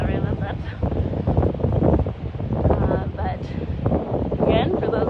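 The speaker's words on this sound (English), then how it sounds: "as we turn, it's going to get windier" Strong wind buffets the microphone on a beach during winter shore monitoring, giving steady rumbling gusts under continuous talking.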